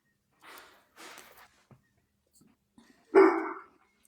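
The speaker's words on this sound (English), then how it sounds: "He likes to like bark from the inside instead of going outside." A dog indoors gives a single loud, close bark near the end, after a couple of faint soft huffs and snorts earlier in a quiet room.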